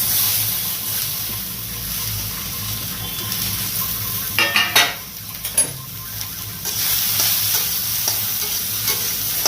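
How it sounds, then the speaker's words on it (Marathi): Washed dried bombil fish fry in oil with a steady broadband sizzle, joined midway by a few sharp clinks and stirring knocks, then settling back into continuous frying with no voices. "हे असे बोंबील स्वच्छ धुवून घेतले, भाजून घ्यायचं तेलामध्ये"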